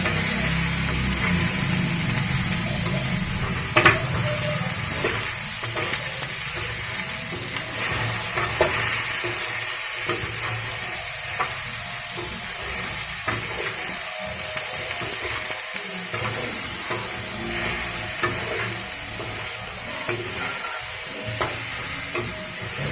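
Chickpeas frying in a pan for masala chana, a steady loud sizzle with scraping stir strokes throughout, no voices.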